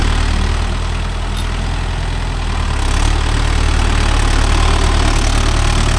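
A Mahindra Yuvo Tech Plus 585 DI 4WD tractor pulls a 9-point cultivator, its diesel engine a loud, steady low rumble that holds throughout with slight swells, with no talk over it.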